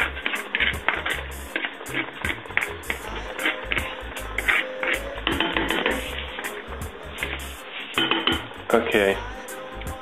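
Onions being stirred in a pan for a Genovese pasta sauce, with steady clinks and scrapes of a utensil against metal throughout, close and fairly busy, over a continuous sizzle.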